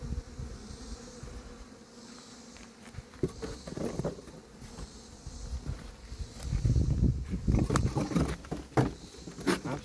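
Bees buzz faintly and continuously around a destroyed hive, with scattered rustling and handling noises that grow louder toward the end.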